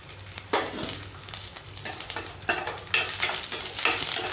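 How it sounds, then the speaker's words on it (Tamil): Cashews, almonds and black and white raisins fry in hot ghee in a kadai, giving a steady close sizzle broken by bursts of stirring and spoon scrapes against the pan. "இப்போ இந்த நெய்யில் நம்ம முந்திரி பருப்பு பாதாம் பருப்பு திராட்சை கருப்பு திராட்சை வெள்ளை திராட்சை எல்லாமே சேர்த்து நம்ம வறுத்துக்கலாம் நெய்யில்"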